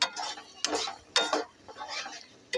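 Metal utensil scraping and clinking in a pan as potatoes and eggplant are stirred and fried dry, with repeated bursts of rubbing and knocking, close and fairly loud.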